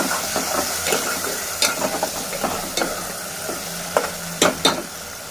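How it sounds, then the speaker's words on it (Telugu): Fish curry ingredients in tamarind-based pulusu being stirred in a sizzling pan, with a steady frying hiss and repeated scraping strokes of a spoon, a few sharper clinks against the pan. "ఇప్పుడు అన్నీ వేసి ఇవి కలుపుకోవాలి."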